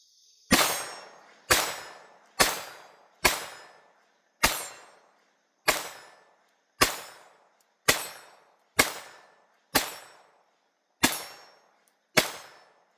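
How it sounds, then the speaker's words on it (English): A Taurus TX22 Compact .22 pistol is fired at a shooting range: thirteen sharp, loud cracks at fairly regular intervals of about one second, each with a short decaying tail and no talking. "Very smooth shooting on this guy."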